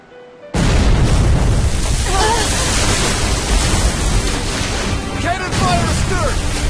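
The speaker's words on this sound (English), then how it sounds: "Cannon fire astern!" Cannon fire at sea in Tales of Berseria, a sudden loud boom followed by a sustained roaring, splashing wash, with a voice speaking over it.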